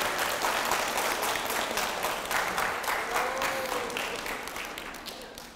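A lecture audience breaks into sustained, even applause, a dense wash of many hands clapping that slowly fades toward the end, with a faint voice briefly audible underneath.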